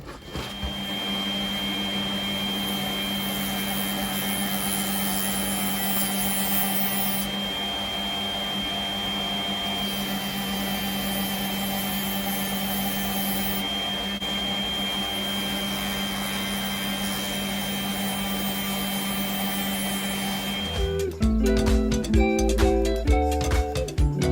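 A power carving tool whines steadily at high speed as wood is rough-carved into a capybara-shaped fishing lure, loud and continuous for about twenty seconds before it shifts into changing, choppy tones near the end.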